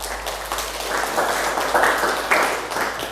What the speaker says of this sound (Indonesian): Aplaus untuk Fahri ya